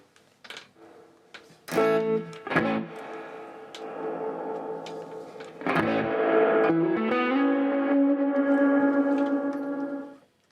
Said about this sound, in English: The reverb is nice.